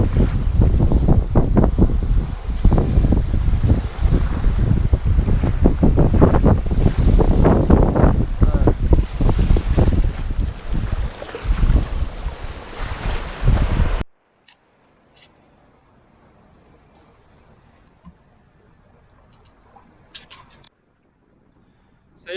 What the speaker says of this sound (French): Ça y est, on a un bon vent arrière.